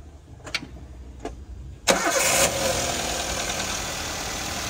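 A Toyota Avanza with 300,000 km on it: a couple of faint clicks, then the engine cranks and catches, settling into a steady, close idle.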